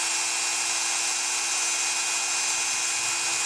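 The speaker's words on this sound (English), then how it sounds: "I need to drill a couple of holes for the antenna" A small power drill boring holes into a golf ball for a craft project, a steady high whine held at constant pitch, close and loud throughout.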